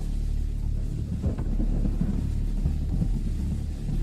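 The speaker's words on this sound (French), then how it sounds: "Il pleut à verse dehors." Heavy rain pours outside at night, a steady dense low rumble with occasional thunder-like swells, loud and continuous with no voices.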